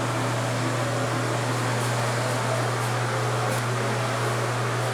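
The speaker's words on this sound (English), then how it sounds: "Exhaust fan working." Exhaust fan running in a utility room with a washer and dryer, a steady droning hum with a broad airy whoosh, unchanging and close throughout.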